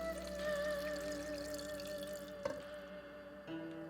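About 750 ml of water pours steadily into a pot of spiced chicken with a continuous liquid rush, a brief clunk partway through, and the flow carrying on at moderate volume.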